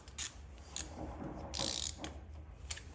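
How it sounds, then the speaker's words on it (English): Bolts being threaded into a Screamin Eagle 55mm intake manifold on a 2023 Harley FLHXS, heard as close, quiet metallic clicks and ratcheting scrapes in short irregular bursts. "So let's put in these breather bolts,"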